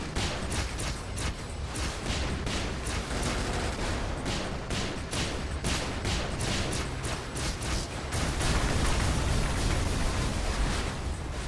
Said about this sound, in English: Okay, I don't know what I hit, but it just exploded all around.